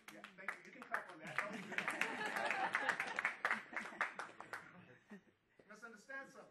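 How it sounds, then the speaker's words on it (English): A symposium audience claps in a scattered burst that builds and then fades, moderately distant, with talk and a chuckle mixed in as a speaker carries on. "Yeah, thank you. You can clap on that."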